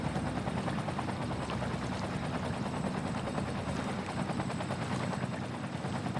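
A helicopter flies in the city-building game Cities: Skylines, its continuous rotor thrum and engine drone holding steady and fairly quiet throughout, with no talking.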